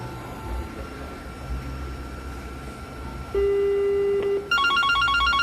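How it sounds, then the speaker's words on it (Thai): A Yealink W73P cordless phone handset, set to ring on only one handset, gives a steady tone and then a clear, repeating electronic ring pattern, loud and close over faint room noise. "ผมก็จะเป็นการดังแค่เครื่องเดียวนะครับ"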